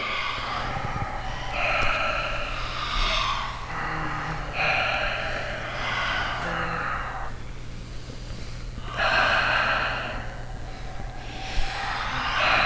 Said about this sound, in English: In through your nose, out through your mouth